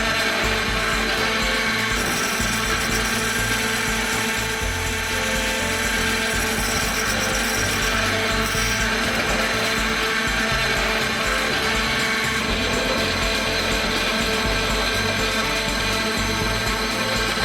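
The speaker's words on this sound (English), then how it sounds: "Now we just carry out fine grinding on the uneven tin dots." A chip grinder runs continuously, finely grinding uneven tin dots on a CPU, giving a loud, dense, steady mechanical whirr and rasp with no pauses and no voices.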